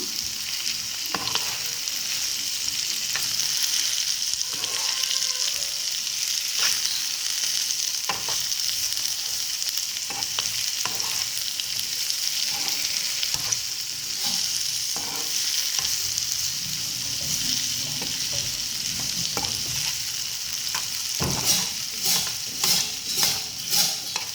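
Potatoes with turmeric are stirred in a frying pan, with a steady bright sizzle throughout and a series of scraping, clicking strokes from the spoon that grow busier toward the end, close and with no talking.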